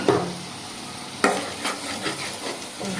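Spices sautéing in a pan with a spoon stirring, a soft continuous sizzle broken by a few scraping strokes, close and alone with no voices.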